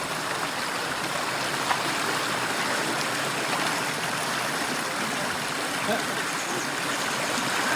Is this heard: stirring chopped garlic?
no